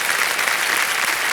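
Studio audience applause on the Kaun Banega Crorepati game show set, a steady dense wash of many hands clapping, loud and continuous throughout with no voices over it.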